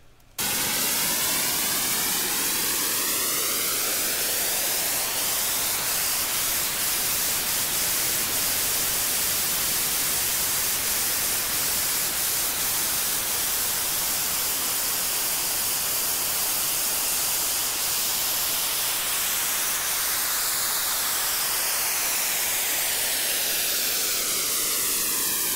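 Automated white-noise wind riser effect: a steady, loud hiss of broadband noise lasting throughout, with slow sweeping filter movements rising and falling across its tone, no voices.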